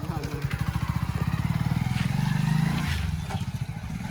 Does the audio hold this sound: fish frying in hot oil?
no